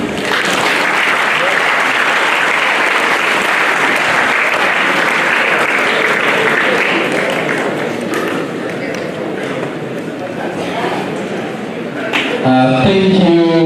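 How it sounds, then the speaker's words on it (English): Students and guests at a boys' school career guidance and mentorship fair applaud a speaker in a loud, dense wash of clapping that holds steady, then thins near the end as other sounds and voices come in. "you can clap for me."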